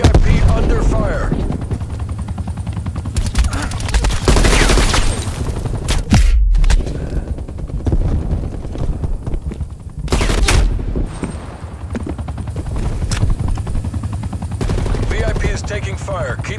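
Gunfire in the video game Call of Duty: Black Ops Cold War during a VIP escort match on the Miami map, with loud, dense bursts of automatic fire and booming shots throughout, amid a helicopter-like drone and radio voices.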